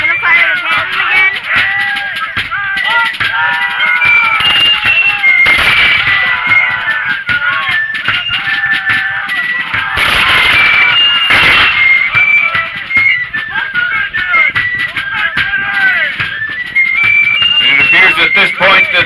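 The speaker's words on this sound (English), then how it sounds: "the British volleys are being answered en masse by the Americans with their own volleys" Musket volleys at a Battle of Fort George re-enactment crack out as scattered and clustered bursts from a moderate distance, heard beneath someone talking steadily throughout.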